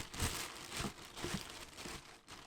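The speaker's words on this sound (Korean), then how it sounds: "김치통에 김장용 비닐을 잘 펼쳐 놓으세요" A plastic kimchi-making bag crinkles and rustles in bursts as it is spread out inside a kimchi container, close and fairly loud with no talking.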